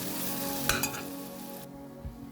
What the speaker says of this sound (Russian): Все, зажарка почти готова.